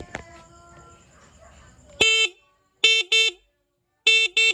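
Sharp, loud electronic horn beeps from a Rusi Passion SC125 scooter: one long honk, then a quick double toot, a pause, and another double toot, with a faint voice early on.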